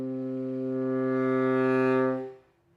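A saxophone quartet holds a steady chord that grows gradually louder and fuller from pianissimo to mezzo forte, then fades out smoothly at the end.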